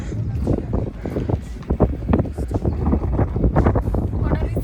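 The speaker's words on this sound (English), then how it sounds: "Very breezy." Strong breezy wind buffets the microphone outdoors in snowy Lesotho, a loud, continuous rumbling roar with gusty surges throughout.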